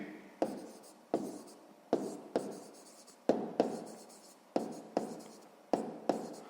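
Pen writing on paper while doing a sixth-grade maths exercise: repeated short scratchy strokes in quick bursts, close and quiet, with no talking.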